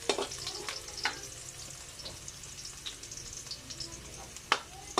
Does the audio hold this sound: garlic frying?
yes